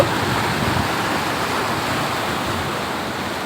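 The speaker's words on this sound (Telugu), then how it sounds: "అందులో నుంచి వాటర్ వెళ్ళిపోతున్నాయి" Steady rushing water pouring out of a village pond at Malkapur, a continuous broadband wash of flow heard close and loud with no voices over it.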